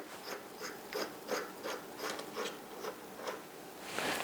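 Lathe tailstock spot drill cutting into an injection-molded plastic knob prototype, giving a quiet repeating scrape-and-grind about every half second with a brighter rasp at the end, no talking.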